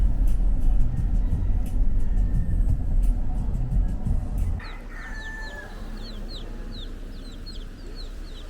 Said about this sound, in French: Des bébés poulets